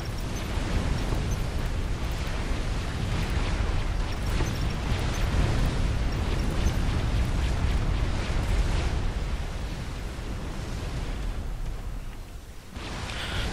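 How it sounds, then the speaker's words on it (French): Chain explosion of generators in Supreme Commander, a long rumbling roar of overlapping blasts and bursts that stays dense and loud for most of the stretch before thinning out near the end. "je fais sauter un générateur et une explosion en chaîne qui fait sauter tous les générateurs"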